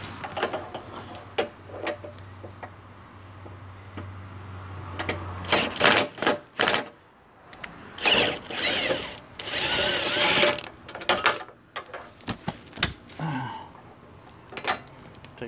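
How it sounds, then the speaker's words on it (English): Impact wrench spinning a 15 mm socket on a lower control arm bolt of a 2012 Ford Focus Electric, heard as several loud, short rattling bursts with pauses between them, close by, after a low steady hum at the start. "a 15 millimeter socket in the impact, and you're going to go through this hole on the lower control arm to get to that bolt up there"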